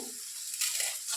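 Dry instant noodles crackle and crunch as they're snapped into a pan over fried onion and chili, a short burst of brittle breaking over a faint sizzle.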